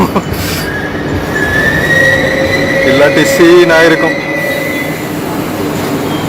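A new air-conditioned electric suburban train in Chennai, India, rolls in with screeching, squealing wheels and a rising hum, loud and close, while a person talks briefly over it.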